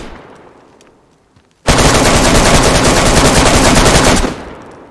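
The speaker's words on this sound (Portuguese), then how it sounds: "eu tô atirando" Sustained automatic gunfire in the survival game DayZ, a loud, continuous rapid-fire burst lasting about two and a half seconds after a near-silent lead-in, then cutting off into a fading echo.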